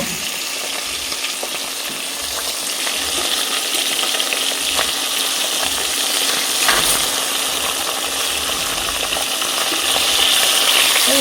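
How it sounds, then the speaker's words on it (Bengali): Fish sizzles and spits steadily in hot oil in a pan, a continuous bright crackle with occasional sharper pops and light clinks, fairly close and loud throughout with no talking. "চলো মাছটা ভেজে নেই এখানে।"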